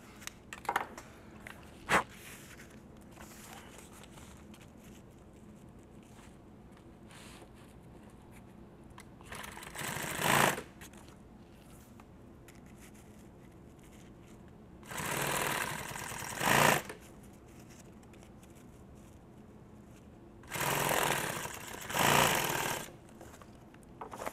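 Industrial sewing machine running hard while stitching nylon PALS webbing for tactical gear, heard in three loud, sustained bursts of rapid mechanical chatter separated by quieter pauses with faint handling noise.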